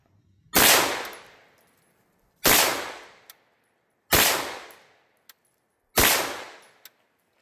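Four loud, sharp 9mm shots from a Bear Creek Arsenal BC-9 bufferless AR9 pistol firing SIG V-Crown 115-grain rounds, evenly spaced about two seconds apart, each with a ringing decay and faint clinks between shots.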